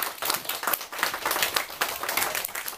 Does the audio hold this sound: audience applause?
yes